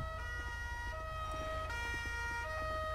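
An ambulance siren in the LSPDFR police video game wails steadily and loudly, its tones shifting pitch in a continuous cycle over a low engine hum.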